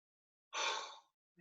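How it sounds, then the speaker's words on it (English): A single forceful breath pushed out through the mouth in a breathing exercise, a short breathy whoosh lasting about half a second, close and fairly quiet, followed by a faint soft sound. "Sometimes it's helpful to breathe out more forcefully, like"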